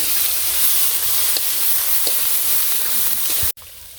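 Leafy greens and fish fry in a pan with a steady, close sizzling hiss for about three and a half seconds. A few soft clicks come through, then the sound drops suddenly to a quieter hiss.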